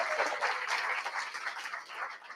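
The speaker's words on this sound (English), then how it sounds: "Give a huge round of applause for Div." Audience applause at a hackathon awards ceremony as a speaker is called up: a dense, steady wash of many hands clapping together, fairly soft and even throughout.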